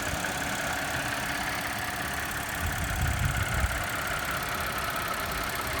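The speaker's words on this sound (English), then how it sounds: "my phone does pick up some small engine noise, so you'll hear like the valve train and stuff a lot more than you would in person." A 2015 Audi Q7 Quattro S-Line engine idles steadily, a constant mechanical hum with light valve train ticking, recorded close by phone, no voices.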